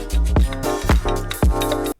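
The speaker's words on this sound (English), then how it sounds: "We're also going to add a tape cassette on the master" Synths with a tape cassette effect and low pass filter play as a short, warm, muffled groove with deep bass hits and layered chords, ending abruptly after about two seconds.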